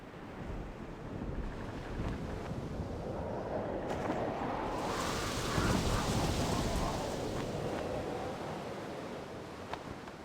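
A storm from the Sid Meier's Pirates! video game at sea pours steady rain and gusting wind, with a deep rolling thunder rumble swelling midway and fading slowly.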